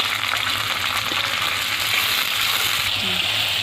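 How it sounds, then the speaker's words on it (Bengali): Onion and chopped tomato fry in a pan, with a steady, dense sizzle and crackle that holds close and even throughout, with no voices. "এবার এই পেঁয়াজের মধ্যে দিয়ে দিচ্ছি আমি টমেটো কুচি। কুচিটাও আমি লাল লাল করে নেব।"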